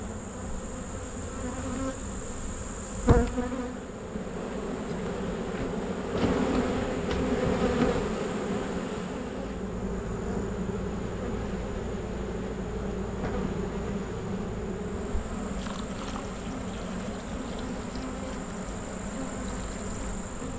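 Honey bees from hive number 6 buzz in a dense, steady drone during a mid-September beekeeping hive inspection. The hum stays close and even throughout, with one sharp knock early on and no talk.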